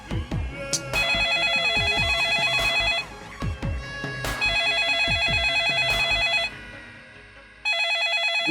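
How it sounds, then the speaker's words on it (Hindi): An electronic telephone ring sounds in repeated bursts with brief pauses, mixed with clicks and knocks nearby. "फोन बज रहा है"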